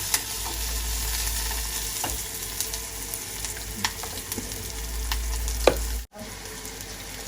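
Steady frying sizzle of onions and curry leaves sautéing in a pan, with occasional clicks and light stirring scrapes, continuous and close, then a brief dropout near the end.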